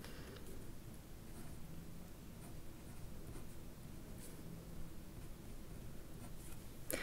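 Pen or pencil writing a math equation by hand on paper, a soft continuous scratching and rustling that runs steadily throughout at close range with no talk.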